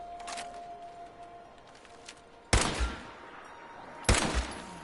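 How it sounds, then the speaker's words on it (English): In a wasteland video game, two sharp, loud gunshots ring out at a possum about a second and a half apart, each followed by a brief echoing tail, after fainter earlier clicks. "How many shots does it take to kill a possum with this gun?"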